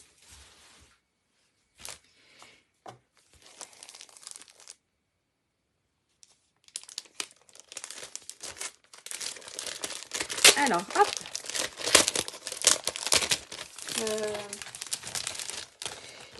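Design paper being handled for a gift bow: sparse crinkles at first, then dense, close crumpling and tearing that builds over several seconds, with someone speaking briefly in French.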